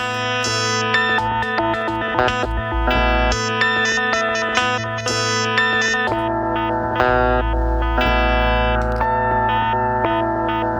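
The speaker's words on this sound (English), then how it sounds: "you can hear those octave jumps in the middle of the overdubs" Layered looping guitar-like tones with heavy effects from a Loupé looper in HalfDub mode, overdubs stacking and pitch jumping by octaves, chorus and echo throughout, no talking.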